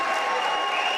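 A basketball crowd applauds steadily throughout in a college gym during an Elmhurst College Blue Jays men's game against Augustana College, a dense, continuous wash of clapping with no break.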